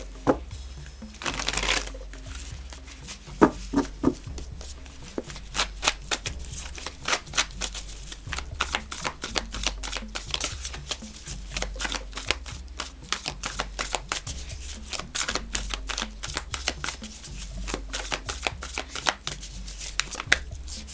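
Tarot deck being shuffled by hand, a long run of rapid riffling card flicks and soft slaps, close and fairly quiet, with no talking.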